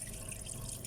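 Water gushes steadily from the tap of a water dispenser during filter cleaning, a brief, even rushing flow heard close and alone.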